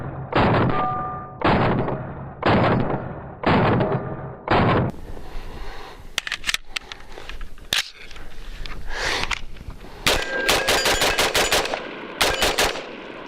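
A Palmetto State Armory 10.5-inch AR pistol with SBA-3 brace and flash can fires outdoors, first a string of loud, evenly spaced booming shots, then faster sharp cracks in quick bursts, close up, no talk.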